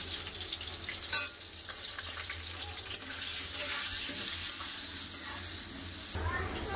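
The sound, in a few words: potatoes frying in oil with turmeric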